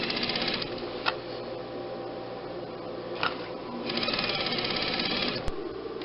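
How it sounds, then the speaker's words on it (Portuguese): A domestic sewing machine stitches lace onto a pillowcase with a continuous rapid clatter, close and steady for several seconds, with a few sharp clicks and slight shifts in speed and no talk. "aqui a gente segue a sequência costurando de fora a fora uma renda"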